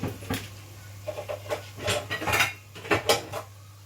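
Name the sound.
pot lid being put on a cooking pot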